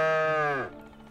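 A cow gives a single loud, close moo that holds steady, then drops in pitch and fades out.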